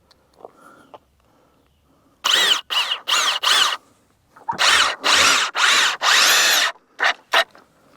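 A power drill drives screws into wooden framing for a chicken coop. Short close motor whirs come in bursts, first a group of three, then a longer run of four, and two quick final pulses.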